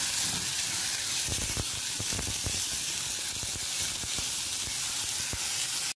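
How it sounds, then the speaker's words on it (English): Potatoes frying in a pan, viazi karai, sizzling with a constant loud hiss while a spoon stirs, scraping and clinking through the sizzle. "And stir."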